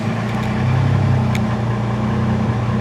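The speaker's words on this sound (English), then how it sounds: "Ooh, that pump sounds nice." A steady mechanical whir and hum from an Aeromotive Stealth fuel pump running in a Datsun 260Z, continuous and fairly loud with a constant low drone throughout, no talking.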